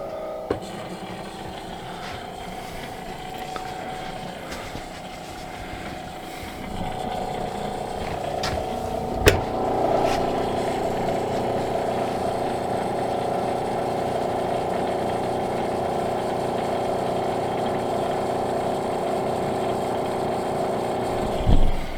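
A pump hums steadily as it runs, a low droning whir that grows louder and fuller about a third of the way in, with a single sharp clank partway through and another near the end.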